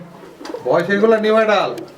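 Pigeons cooing at a market sale of fancy pigeons where a pair of black birds is on offer, a couple of soft, rounded coos close by with people talking among the birds.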